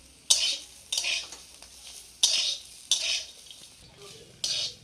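Cashews and raisins fry with potato and carrot in a pan, heard as several separate bursts of spoon stirring and scraping over a soft sizzle, close up and without speech.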